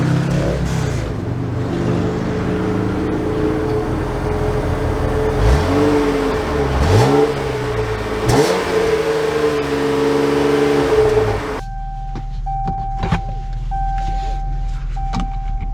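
2022 Jeep Cherokee Limited setting off on a drive, engine running with rising and falling revs as it pulls away, then settling into quieter cabin hum with a few clicks.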